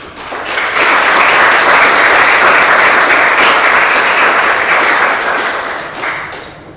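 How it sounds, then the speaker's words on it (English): Students and guests at a leadership awards ceremony applauding the nominators, a loud, dense burst of clapping that swells quickly, holds steady, then tapers off. "Give some applause to the nominators, please."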